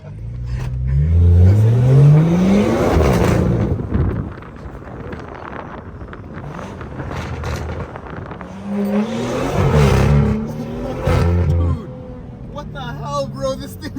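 A modified BMW B58 engine revs hard twice during a drive, each climb in pitch followed by a drop-off as the throttle lifts, with wind buffeting and someone speaking over the engine.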